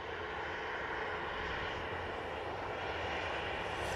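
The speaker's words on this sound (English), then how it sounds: "Next in, we have this Virgin Atlantic A350 1000 coming in from Atlanta." A Virgin Atlantic Airbus A350-1000 airliner arriving at Manchester Airport, heard as a steady, broad engine roar that holds loud and even throughout with no voices.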